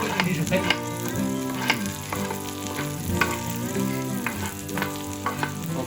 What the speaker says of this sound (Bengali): আমি রসুন আর পেঁয়াজগুলো দিয়ে দিব এবং সতে করে নিব